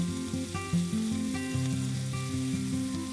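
Potatoes fry on an outdoor griddle made from a tractor disc over a campfire, giving a steady, close sizzle with faint scraping as they are stirred, and no voices.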